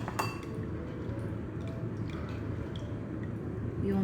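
Sugar and sweet corn for maja blanca are stirred in a bowl, making soft squishy mixing and light clinks of a utensil against the dish, close and quiet.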